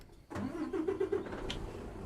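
A truck engine in a trucking simulation game turns over and settles into a steady, loud, droning idle with a rhythmic low pulse, heard close and alone.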